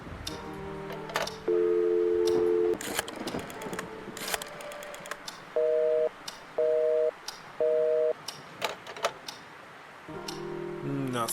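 A telephone busy signal in the Scratches video game repeats as short evenly spaced tones, beginning with a longer burst, mixed with clicks and clatter from handling the phone.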